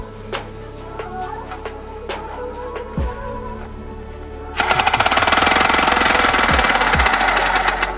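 A homemade four-stroke air engine running on compressed air at 60 PSI. It starts with faint scattered clicks, then from about halfway it bursts into loud, rapid, steady exhaust pops and knocking that continue to the end.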